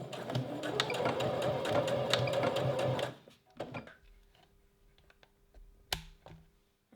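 A sewing machine runs a straight stitch along picot elastic on a bra, a close steady whir for about three seconds that stops abruptly, followed by a few quiet clicks and handling taps.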